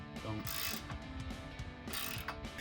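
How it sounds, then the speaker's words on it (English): A 13 mm ratchet tightening the mounting bolts on Barricade HD rocker steps of a 2021-2023 Ford Bronco, giving quick bursts of clicking pawl strokes up close, with brief pauses between the bursts. "you'll grab your 13 milliliter ratchet and just tighten up both sides"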